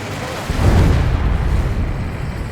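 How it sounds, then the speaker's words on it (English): A huge underwater explosion in the Ace Combat 7 flight game erupts as a deep, muffled boom that swells quickly and rumbles on heavily for a couple of seconds. "A huge explosion just went off underwater."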